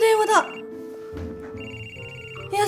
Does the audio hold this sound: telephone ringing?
yes